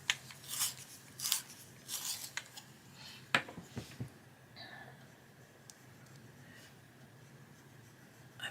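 A green coloured pencil is sharpened in a few short bursts of scraping and grinding, close and quiet, followed by faint rustling in an otherwise hushed room.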